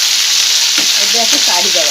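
Pointed gourd (potol) sizzles in hot oil in a pan, a steady dense frying hiss with a few soft stirring scrapes and pops, close and fairly loud, no voices.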